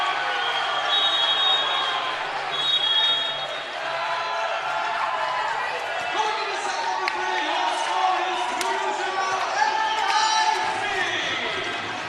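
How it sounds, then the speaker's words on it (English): A crowd at a volleyball match roars in a sustained, echoing wash of cheers and shouts, with a voice faintly audible beneath. "The crowd speaks for itself"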